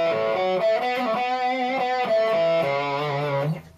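Electric guitar played through the distortion of a ZOOM G3 multi-effects unit, a fuzzy, thick older-style tone with sustained chords and notes ringing loud and alone for a few seconds.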